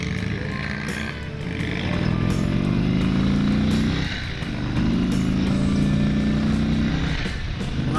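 A 2022 Indian Super Chief Limited motorcycle pulls away with a deep, throbbing engine note that rises through two acceleration surges, a brief dip between them, heard close and loud.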